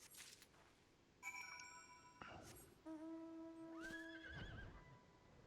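A horse mount in Final Fantasy XIV whinnies twice in quick succession, clear and close, over a faint quiet background.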